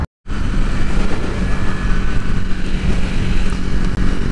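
A 2024 Triumph Speed 400 motorcycle riding on a sunny day, its engine drone and rushing wind steady and loud close to the rider after a brief silent start, with no talking.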